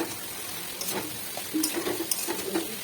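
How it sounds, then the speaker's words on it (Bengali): Mixed vegetables for neem dalna, with neem leaves and drumstick, being stirred with salt in a pan over low flame, soft scraping and faint sizzle with a few light clinks of the spoon against the pan. "লবণ দিয়ে ভালো করে সমস্ত সবজির সঙ্গে মিশিয়ে নিচ্ছি।"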